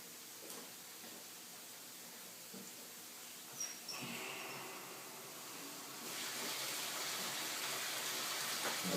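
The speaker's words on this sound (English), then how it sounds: "Filling it up with water now." Steady hiss of water running from a tap into a container, growing louder and brighter in the last few seconds, with no voices.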